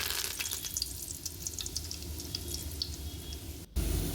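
Curry leaves dropped into hot oil for egg bhurji give a steady, close sizzle and crackle throughout, with a brief dip near the end before a louder burst of frying.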